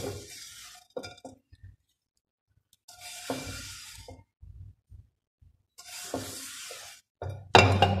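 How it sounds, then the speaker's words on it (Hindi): Food clinking and scraping onto a glass plate in a home kitchen during panjeeri preparation, a few separate bursts of glassy clinks and clatter with quiet gaps between, ending in a louder knock. "ग्लास प्लेट में निकाल लेंगे।"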